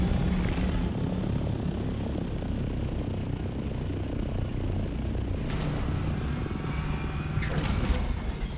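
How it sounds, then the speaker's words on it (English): Steady engine drone of an assault helicopter in Dune: Awakening, a continuous loud whirring roar with a few sharper bursts near the end, no talking. "Hey, that's an assault. That's an assault copter."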